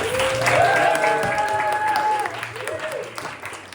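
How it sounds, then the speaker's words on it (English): Audience applause fills the room at a Present Company improv comedy show, a dense, sustained clapping that slowly fades, with voices and a few tonal sounds mixed in. "a round of applause for Marina"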